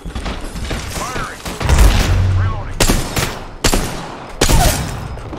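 Video game gunfire in quick bursts of sharp shots and rattling volleys, loud and close, with brief pauses between clusters.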